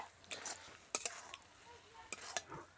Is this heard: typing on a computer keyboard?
no